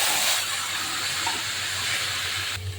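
Bay leaf and cumin seeds tempering in hot oil, a loud, continuous broadband hiss and sizzle that holds steady before dropping off sharply near the end.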